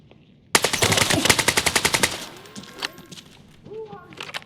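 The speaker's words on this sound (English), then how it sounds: "Exchanging fire with the target!" Automatic gunfire in the shooter game Arena Breakout Infinite: a loud, rapid burst of about fifteen evenly spaced shots, then quieter scattered effects and a few distant pops at the end.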